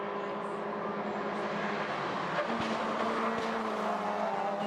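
Race cars at the Biķernieku track in Riga, during a touring car race, drone steadily in a dense roar, with engine notes rising and shifting from several cars at moderate distance.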